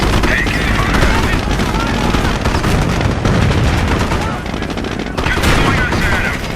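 Loud, dense bursts of automatic gunfire and rattling shots fill a Company of Heroes battle, continuous and close, with booming impacts mixed in and faint game voices underneath.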